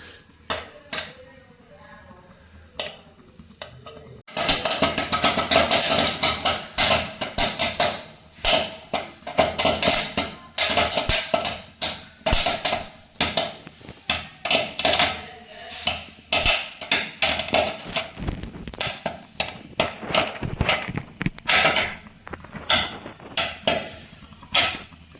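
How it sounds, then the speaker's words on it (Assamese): Popcorn pops while frying in a pan, dense irregular bursts of sharp cracks and clatters that start suddenly and continue loudly, with scattered quieter gaps. "পপকৰ্ণ বঢ়িয়াকৈ ভাজি লওঁ চাব পাৰে পূৰা ফুটব ইফালে"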